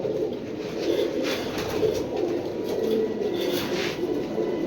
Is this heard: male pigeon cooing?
yes